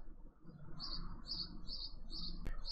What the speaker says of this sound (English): I wanted to complain about how loud the birds were being